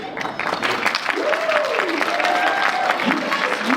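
An audience applauds at a voice-actor panel during an anime convention in Milwaukee, with loud, sustained clapping from a nearby crowd and a few voices calling out over it.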